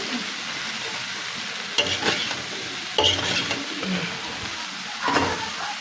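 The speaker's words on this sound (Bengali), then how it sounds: "এবার একটু নাড়াচাড়া দিয়ে দিলাম" Water lily stems with salt being stirred in a cooking pan, a steady sizzle of frying with a few distinct scraping stirs of the spatula, close and alone without talk.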